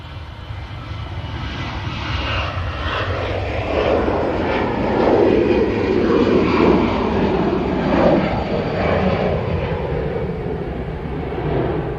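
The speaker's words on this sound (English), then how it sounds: "And Qatar's about to turn on to the active runway" A Qatar airliner taxiing at Manchester Airport gives a steady, loud engine roar that swells slightly and holds throughout, with no talk.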